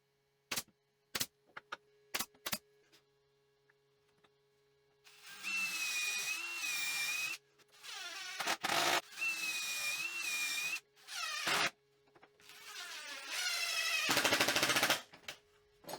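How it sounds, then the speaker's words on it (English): A router with a rabbeting bit cuts plywood for a portable workbench top in several loud, whining bursts of varying length, preceded by a few sharp, isolated clicks and quiet gaps. "I need to route out the space for it in the top, and I'm going to use a rabbiting bit to do that"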